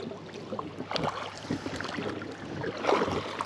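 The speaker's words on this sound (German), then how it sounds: "Ruder mich ganz gerne ran" A fishing boat is rowed toward a marker on open water during a carp fishing trip, with soft, irregular oar splashes and water sloshing against faint wind, quiet and close with no talking.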